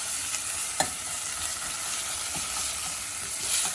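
Onions browning in a pan on an Indian stovetop, a steady broadband sizzle with a few spoon-stir clicks scattered through, close and continuous with no talk.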